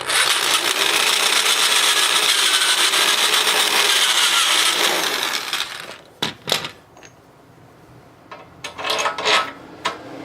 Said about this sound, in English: just take the drill and run her through there and clean it out a little bit